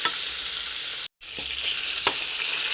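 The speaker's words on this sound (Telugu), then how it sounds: "చూసారా, వంకాయలు వేగుతున్నాయి, ఇంత బాగా వేగుతున్నాయి కదండి" Eggplants fry in hot oil in a pan with a loud, close, continuous sizzle. The sound cuts out for a moment, and a couple of faint stirring knocks follow.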